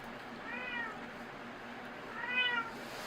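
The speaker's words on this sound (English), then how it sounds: "Oh, cats." Cat meowing twice outdoors during winter tree pruning, a short meow early and a louder one near the end, over a steady background hiss.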